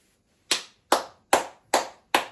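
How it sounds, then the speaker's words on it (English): Five sharp hand claps ring out alone at a steady, even rhythm, each close and crisp with a quick decay. "Clapping."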